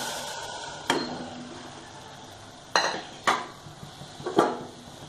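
Cooked lentils and vegetables are tipped into a cooking pot for Karnataka-style bisibele bath, heard as a few sharp metallic clinks of ladle against pot over a soft background, close and without speech.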